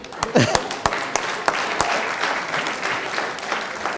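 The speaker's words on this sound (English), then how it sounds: "Stand up and applaud." Audience at an NHS event at BMA House rising for a standing ovation, loud dense applause with sharp individual claps and voices calling out over it.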